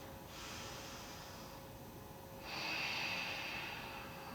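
A person breathes slowly through a restorative yoga stretch, a soft airy inhale followed by a longer, slightly louder exhale, close and steady with no talking.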